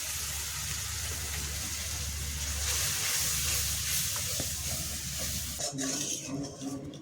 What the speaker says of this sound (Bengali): মশলাটা ভালোভাবে কষানো হয়ে এসেছে, আর একটু কষানো হবে যাতে তেলটা আসে।